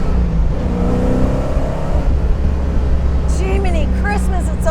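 A 535-horsepower supercharged V8 in a widened MGB accelerates hard, its deep engine note climbing in pitch through the gears, then a shift and a rising whine, loud and close from inside the car.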